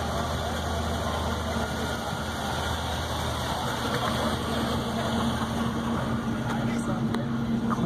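A 1950 Cadillac Series 62 Coupe idles steadily, its engine giving a constant, close rumble, while someone talks over it.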